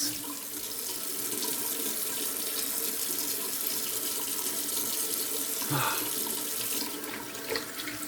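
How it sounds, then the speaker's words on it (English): Cold water runs steadily from a tap with a splashy hiss, close by, with a brief change in the flow near the end as something is rinsed under it. "All right, cold water rinse."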